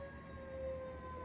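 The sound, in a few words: emergency vehicle sirens near a hospital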